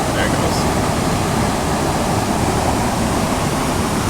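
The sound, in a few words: waterfall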